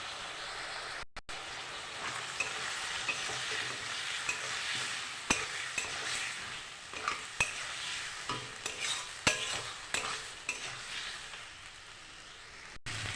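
Ground spice paste with chopped tomato and turmeric stirred and fried in a pan, a soft continuous sizzle broken by repeated scraping and tapping strokes of the spoon, close but fairly quiet.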